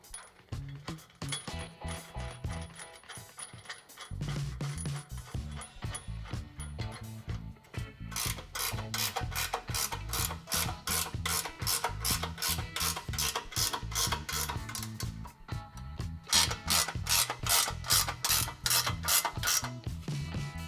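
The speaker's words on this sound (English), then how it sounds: "we'll go ahead and tighten the rest of our bolts on the front" A ratchet tightening bolts on a CBI T3 Covert Half Bumper with winch, rapid rhythmic pawl clicking in long continuous runs with brief pauses, close and steady throughout.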